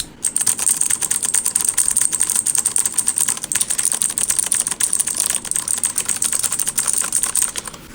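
Rapid, steady clacking of a RAZEAK K1 mechanical keyboard's keys pressed continuously, close and fairly loud, with no talking.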